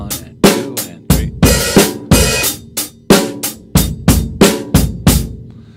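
Drum kit beat with accented open hi-hat hits ringing out on the 'and' counts, crisp washy cymbal bursts over kick and snare, loud and close, steady rhythm with no talking.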